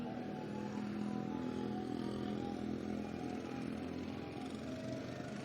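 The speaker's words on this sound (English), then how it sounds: "And we have our motorcycle division coming in." Motorcycles rolling past in a town's bicentennial parade, a steady, dense engine drone holding at moderate level throughout with a rough, clattering texture and no clear individual passes.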